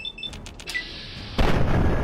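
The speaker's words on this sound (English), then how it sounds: "he's got a fucking missile launcher" A missile launcher fired by an enemy in Fallout 3 booms out loud and close: a sudden heavy blast that rolls into a sustained, dense rumble after a few lighter thumps and clicks.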